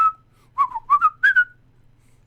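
Person whistling a short, wavering melody, a few bright notes in a quick phrase, close and clear with no talk.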